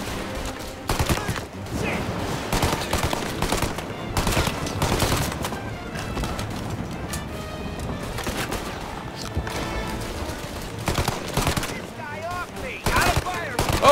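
Tommy gun bursts in Mafia Definitive Edition, rapid automatic gunfire rattling in dense volleys for the whole stretch alongside other shots and game sounds, with voices talking over the action.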